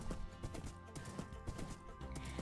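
Horse hooves clip-clopping in the Minecraft video game, a quiet, steady series of light rhythmic hoof beats over a faint background hum.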